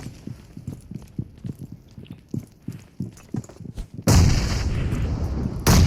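Grenade blast in the mobile battle-royale game PUBG Mobile, a sudden loud, sustained roar bursting in near the end and holding several seconds, preceded by a run of rhythmic footstep-like thumps.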